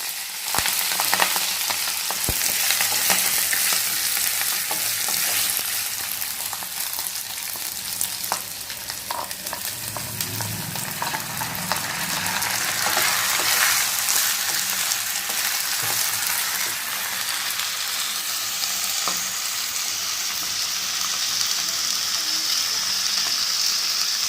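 Drained rice frying in a pan for golap polao, a loud, continuous crackling sizzle lasting throughout, broken by scattered clicks and scrapes of stirring, with no voices.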